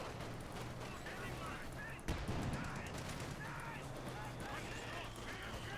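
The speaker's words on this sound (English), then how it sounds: "Mortar firing down, almost taking out the Grenadiers." Mortar and gunfire in the video game Company of Heroes 2 sound as a dense, steady din of battle with a sharper thump near the two-second mark, heard under continuous commentary.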